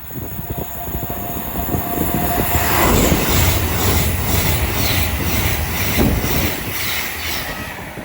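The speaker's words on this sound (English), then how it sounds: "Soon to come through now will be a very late running Adventure West Coast 390 going from Manchester Piccadilly to London Euston." An Avanti West Coast Class 390 Pendolino runs through Watford Junction on its way from Manchester Piccadilly to London Euston, a loud rushing roar that swells near the three-second mark and holds steady as the carriages sweep past close by.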